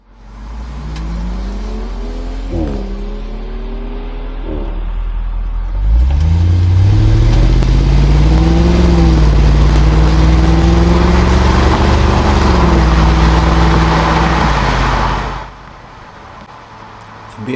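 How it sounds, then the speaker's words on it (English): A BMW pulls away from a stop sign, its engine revving up hard through quick gear shifts, loud and close. The exhaust note rises and falls with each gear change and then drops off abruptly. "you'll be able to hear the BMW"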